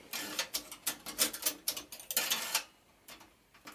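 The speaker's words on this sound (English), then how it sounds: "So I'm just screwing this one in up here" Small screw being driven into a bracket on a computer case, a quick run of dry ratcheting clicks and scrapes close up, then a short pause and a few softer clicks at the end.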